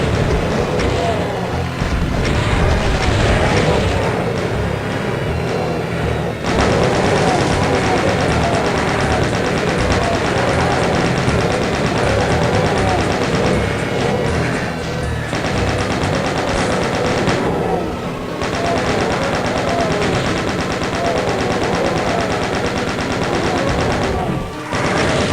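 Continuous heavy gunfire from a gun in the video game Going Down, dense rapid shots blurring into a loud unbroken roar with a few brief pauses.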